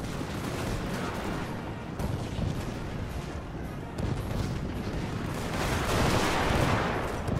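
Dense, continuous barrage of gunfire and artillery rumble from a Total War strategy game mod set in an era of steam and steel, a steady roar of overlapping shots and booms with no gaps, swelling slightly toward the end.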